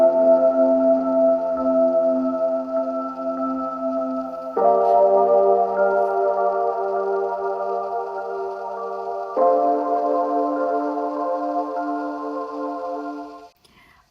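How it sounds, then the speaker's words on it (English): Layered piano notes and chords played through a Hammer preset with a Wave pad preset adding a pedal-like background, EQ and spatial reverb, three sustained sections changing at steady intervals, full and alone before a short fade at the end. "Next, I added one more piano sound."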